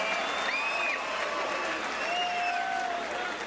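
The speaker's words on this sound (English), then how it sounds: "Give both of these fighters a tremendous round of applause." Boxing arena crowd applauding the fighters after a professional bout, a steady, dense roar of clapping with cheers and whistles rising over it, and voices mixed in throughout.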